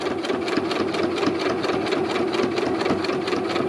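Sewing machine running steadily through thick vinyl for a golf cart sun visor with ball fringe trim, a loud continuous rapid stitching chatter with no pauses.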